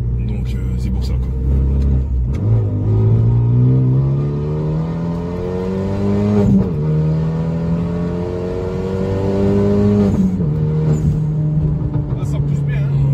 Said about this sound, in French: on a le moteur qui ronronne bien